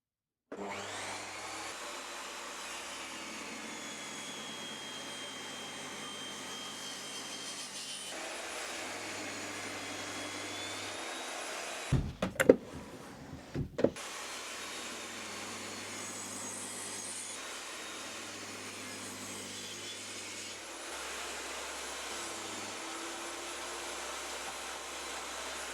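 A saw blade cuts a block of wood in a steady, buzzing whine with a low motor hum, broken briefly midway by a few clattering knocks, then resuming.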